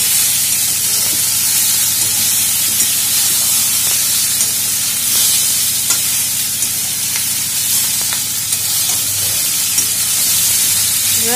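Ginger frying in a pan over low to medium heat, with two chillies added, for a pumpkin and potato curry; a loud, even sizzling hiss holds steady throughout, with no voices.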